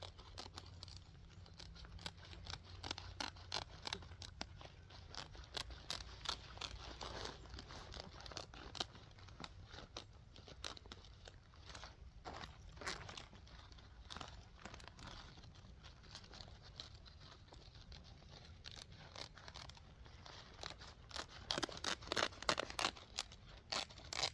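Weed barrier fabric being cut through in a long run of crinkling, tearing snips and rustles, close and fairly quiet, steady for most of the stretch and busier near the end, with no voices.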